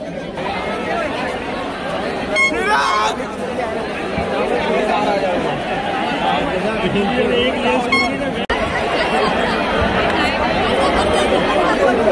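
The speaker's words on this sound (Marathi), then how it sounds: "गर्दी वाढत चालली आहे" Dense street crowd at a victory parade in Mumbai, a constant loud babble of many voices with chatter close by and occasional car horns toots rising through the steady hubbub.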